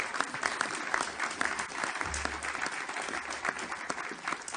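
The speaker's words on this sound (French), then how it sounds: "Je voudrais vraiment qu'on les applaudisse pour le travail qu'elles ont fourni." Sustained applause from a conference audience at a colloquium on the silver economy, dense clapping filling the room at steady volume, with a brief low murmur partway through.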